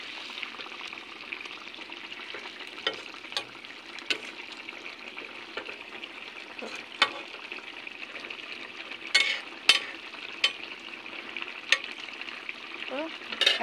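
Fish simmering in a pot of dal with spinach, onion leaves and tomato, a soft steady bubbling and faint sizzle with occasional small clicks and stirring taps, quiet and close with no talk.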